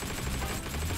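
Rapid automatic gunfire from an infantry weapon in the World War II shooter Heroes and Generals, a dense burst of loud, close shots running through the full second with no pause.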